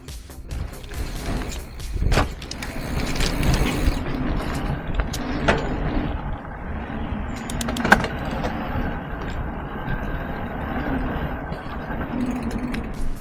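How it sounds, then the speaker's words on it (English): Rocky Mountain Instinct Powerplay e-bike on a ride, its motor giving off bearing noise, a rough mechanical whir heard close among rattles, clunks and sharp knocks from the trail, steady for several seconds. "So it does have some bearing noise, that's why I gave you that 5-second burst of what it sounds like"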